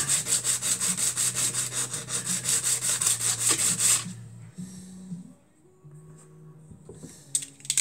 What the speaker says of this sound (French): Une petite feuille de papier de verre. Et maintenant on va tout fignoler comme ça,